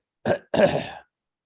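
A close, harsh cough in two short bursts, the second longer and rougher, followed by silence.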